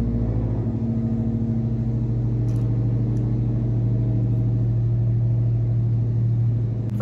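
A car engine idles in a steady, low rumble, close and constant throughout, with a couple of faint clicks and no voices.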